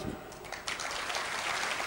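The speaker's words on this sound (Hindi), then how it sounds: "आपकी कमजोर तालियां अच्छी कविता को कमजोर करती हैं।" A thin, scattered patter of audience applause at a Hindi poetry recital, quiet and brief, with no voices.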